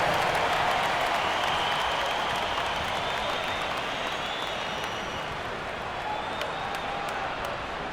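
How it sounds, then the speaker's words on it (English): An arena crowd at an NBA basketball game between the Warriors and Clippers applauds during a timeout, a steady loud wash of clapping and cheering that holds throughout. "Give yourself a round of applause."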